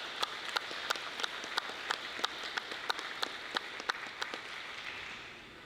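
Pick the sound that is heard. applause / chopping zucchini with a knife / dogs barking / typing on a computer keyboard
applause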